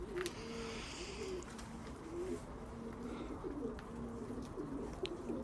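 Pigeons coo steadily in low, rolling calls that repeat throughout, over a faint background hiss.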